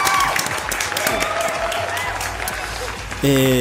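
An audience gives a short burst of applause, dense clapping that carries under a voice and ends in a jingle of music.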